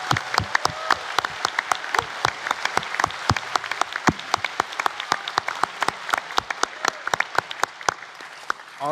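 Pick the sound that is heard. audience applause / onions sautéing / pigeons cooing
audience applause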